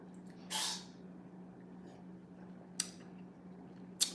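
A single sharp sneeze sounds close by over a steady low hum, followed by a couple of brief faint clicks.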